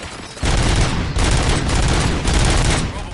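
Loud, sustained gunfire in a Robocop video game, dense bursts of automatic shots with heavy booms running almost continuously, briefly dipping before resuming at full intensity.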